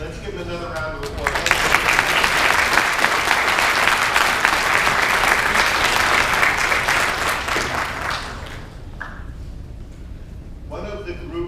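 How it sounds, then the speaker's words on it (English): An audience at an awards presentation breaks into loud, dense applause lasting about seven seconds, then fades out as a speaker begins talking. "Let's give him another round of applause."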